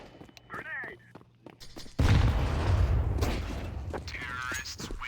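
A grenade blast in Counter-Strike, played in a pro match final, bursts in with a loud sudden boom and a long noisy rumble that stays up for seconds while voices call out over it.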